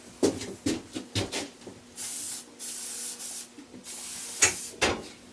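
Spray bottle of Fight Back teat disinfectant applied to a cow's teats after milking: several short hissing squirts in quick succession, then a few longer sustained sprays, close to the listener with no talking.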